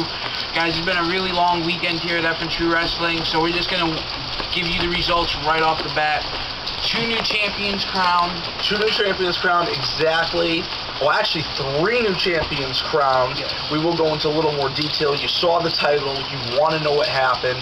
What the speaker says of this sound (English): We're getting a torrential downpour here in Connecticut.